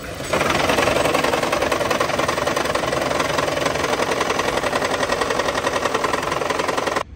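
Toyota Prius engine with a P0300 misfire and coolant loss idles with a rough, steady knocking pulse, loud and close, with no talk.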